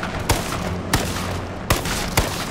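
Four separate gunshots from a teammate's gun in the H1Z1 battle royale game, fired at irregular intervals, each a sharp crack standing out over steady background game noise.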